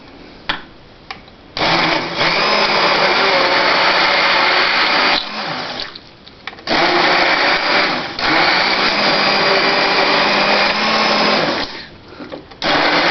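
Steamed organic winter squash is pureed for soup in a blender that whirs loudly and steadily in long runs, stopping briefly a few times between bursts, with no talk over it.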